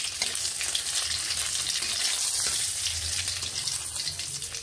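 Bay leaf and black cumin seeds sizzle steadily in hot oil for a fish curry, a dense, continuous crackle with no voices over it.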